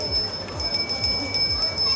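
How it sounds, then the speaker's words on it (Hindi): A hand bell rings continuously during a Ram Navami kanya puja ritual, a bright metallic ringing under voices and crowd noise. "साथ ही एक घंटी भी है और पूजा अर्चना करते हुए"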